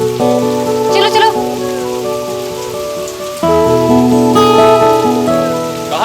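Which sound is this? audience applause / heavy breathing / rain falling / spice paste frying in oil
rain falling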